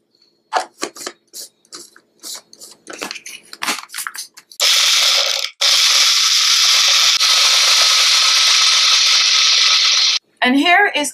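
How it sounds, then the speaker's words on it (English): An electric blender runs loud and steady for about six seconds, blending chopped onion and tomato, then stops briefly and restarts; scattered kitchen knocks and clicks come before it, with a short burst of talk at the end. "So I'm going to blend both the onion and the tomato together."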